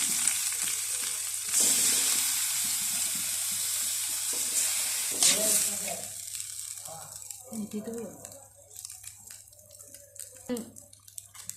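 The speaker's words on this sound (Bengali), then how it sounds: "চালগুলোকে সুন্দর করে দিয়ে ভেজে নিব আমি।" Rice frying in a kadai for polao hisses loudly and steadily at first, then quietens into uneven crackling as it is stirred, with repeated scraping and clinks close by.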